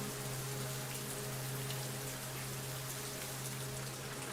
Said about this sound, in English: I like the rain. I think the rain is nice.